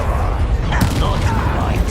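A Bombarda spell explodes in Hogwarts Legacy, a sharp burst that breaks into a dense rumbling blast and lingers through the rest of the moment, loud and close over a heavy low-end background.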